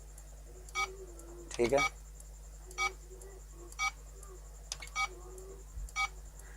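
Short electronic beeps from a Realtime T304F biometric device's tamper alarm repeat at roughly one-second intervals over a constant low hum, with a brief spoken remark partway through.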